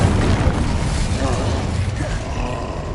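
Fire spells Confringo and Incendio cast in Hogwarts Legacy, giving loud, dense fiery rumbles and blasts with mechanical creaks, continuous for a few seconds, while a voice speaks over them.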